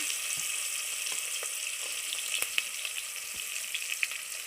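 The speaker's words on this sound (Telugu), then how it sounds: "ఉల్లిపాయలు పచ్చిమిరపకాయలు వేసుకుందాం" Onions and green chilies fry in hot oil with a steady, soft sizzle. Occasional faint pops and stirring clicks sound over the constant crackle.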